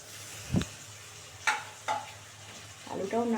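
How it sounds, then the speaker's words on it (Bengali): Potatoes added to fried onion crackle gently in a pan, with several sharp scrapes of a spatula, and a voice comes in near the end. "আলুটাও নাড়াচাড়া করে নিই একটু ভালো করে, আলুটাও একটু সুন্দর করে ভাজা হোক।"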